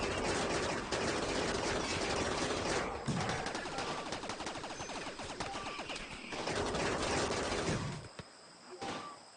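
Turret fire in a RimWorld colony battle against mechs: dense, continuous bursts of rapid gunfire that stay loud for most of the stretch, with a short break near the middle and a tapering, sparser final couple of seconds.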